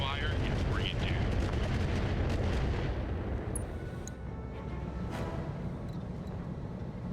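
Mech weapon volleys firing in Battletech Roguetech come as a dense rumbling barrage of booms and bursts that fades partway through, with a few sharp impacts and a game voice over the battle noise.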